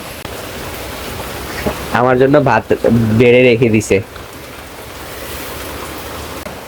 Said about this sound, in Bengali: বাইরে অজস্র বৃষ্টি হইতেছে